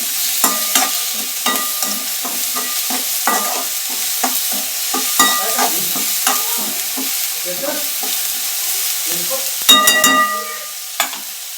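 Chillies, tomatoes, onion and garlic sautéed in a pan for kharda, repeated rhythmic scraping strokes of a spatula over a soft crackling sizzle, close and fairly loud, with a sharper clatter toward the end.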